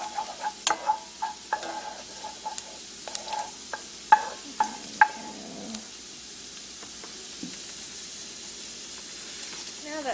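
Quiet sizzling of garlic in a pan with a series of sharp utensil taps and scrapes against it, near and intermittent, fading to a soft steady fry.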